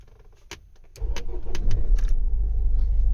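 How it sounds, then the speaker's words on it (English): A 2007 Vauxhall Vivaro van is started with its original key: a few clicks and key jangles, then the engine catches and settles into a steady, close, rumbling idle. "Vehicle starts with the original key."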